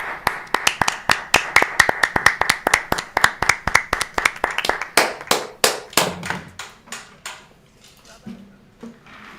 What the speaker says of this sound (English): It was a late clap there.